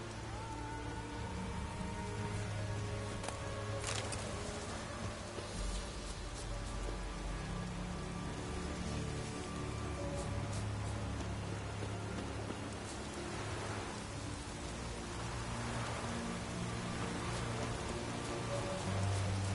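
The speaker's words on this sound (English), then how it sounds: "Looks like rain." Steady rain falls in the Skellige region of the video game Witcher 3, a dense, continuous hiss of drops that holds evenly for about twenty seconds. A faint low rumble runs underneath, with no speech.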